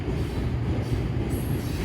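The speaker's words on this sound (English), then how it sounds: "this is definitely a unit tank train" A unit tank train rolls past at Oak Harbor, a steady, loud, close rumble of wheels and rail noise that holds without a break, with no voices.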